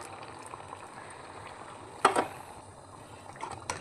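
Thick cream chicken sauce bubbling and simmering in a pan, soft continuous gurgling with a louder burst of popping bubbles partway through.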